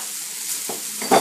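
Tomato and seed mixture being stirred as it fries in a pot, with a soft sizzle throughout and a couple of scraping stirs, the last one louder and close.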